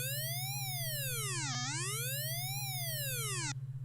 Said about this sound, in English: B0, a low-pitched siren sound, replaced by the buzzsaw sound effect.